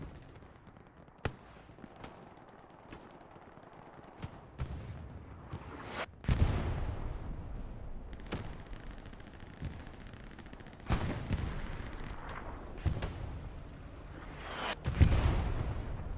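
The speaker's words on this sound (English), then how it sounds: "The artillery strike from CTM hit its mark." Artillery strikes and gunfire in the video game Hell Let Loose, with sharp isolated shots and several heavy booming impacts scattered across a quiet battlefield, some distant and rumbling, others close and loud.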